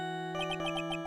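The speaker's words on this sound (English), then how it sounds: "What kind of ringtone is that?" A phone ringtone in the Phoenix Wright: Ace Attorney – Trials and Tribulations video game: a short, bright electronic tune with a steady pulsing rhythm of repeated notes over a sustained synth chord, quiet and on its own.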